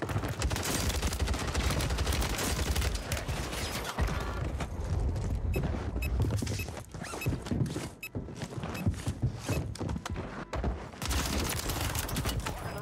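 Call of Duty Warzone gunfire on Rebirth Island rattles in sustained, loud automatic bursts with mechanical clatter, thinning into scattered shots and short gaps before picking up again.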